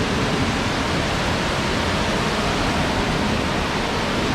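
An indoor waterfall rushes in a dense, unbroken roar that holds at the same loudness throughout, with no voices above it.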